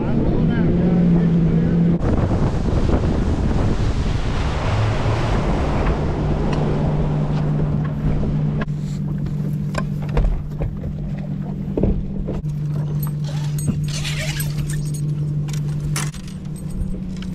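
A bass boat motor idles on Kerr Lake in North Carolina at a tournament launch, a steady low engine rumble close by, with voices over it and rattling and water noise later.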